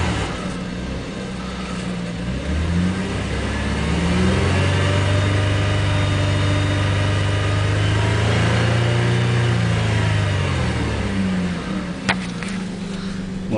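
A 1994 Chrysler Concorde's engine runs after a cold start, a steady mid-pitched hum that rises into a fast idle then eases back down, with a brief click near the end.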